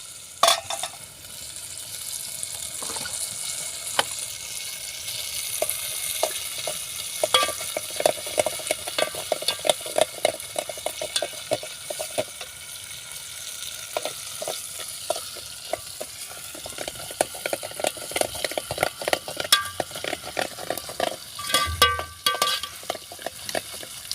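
Masala frying in a pan and being stirred for a spicy soya chunk dish, a steady sizzle with repeated close scraping strokes of the spoon throughout and no talking.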